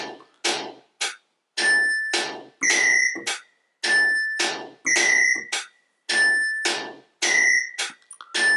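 Synthesized drum hits from a Roland D-20 synthesizer playing a rhythm pattern, about eight sharp, ringing, bell-like strikes in a steady repeating groove, clear and alone.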